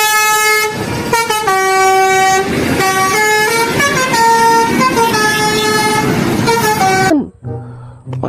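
A Subur Jaya bus sounds a long, loud, melodic multi-tone horn for about seven seconds, close by and dominating, with engine rumble underneath before it cuts off abruptly.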